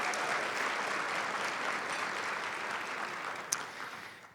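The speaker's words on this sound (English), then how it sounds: "Another big round of applause for her." Sustained crowd clapping at an education awards event honouring a student, a dense even wash of hands with a brief sharp accent near the end before it begins to fade.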